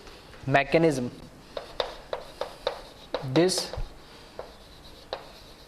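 During a chemistry lesson, chalk or a marker taps and scratches across a board in short, separate strokes, with someone speaking intermittently in between.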